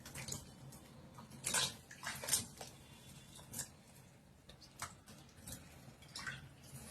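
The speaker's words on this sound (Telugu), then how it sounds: "ఫస్ట్ ఇలా మనం వాటర్లో కొంచెం సాల్ట్ వేసుకొని కడుక్కోవాలి నీట్గా" Something is being washed by hand in salted water, making faint, intermittent splashes and sloshes with small drips between them.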